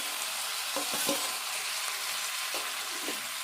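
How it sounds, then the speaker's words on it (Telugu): Tomatoes frying in a pan with browned onions for a tomato-brinjal curry, a steady broad sizzle close by with a few soft stirring knocks, no talking. "ఇప్పుడు ఈ ఉల్లిపాయలు వేగినాక ఇప్పుడు ఇందులో టమాటా వేసుకోవాలి."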